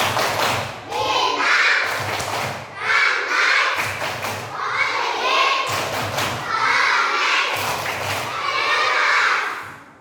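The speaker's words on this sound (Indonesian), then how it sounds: "Tepuk simbol Pancasila." Elementary school children in a classroom perform the rhythmic Pancasila symbol clap, loud repeated patterns of claps and thumps mixed with chanting voices, in several sections across the span.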